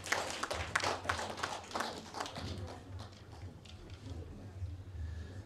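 An audience at a folk song competition awards ceremony claps, a dense patter of many hands that is strongest at first and then thins out and fades, with a faint murmur underneath.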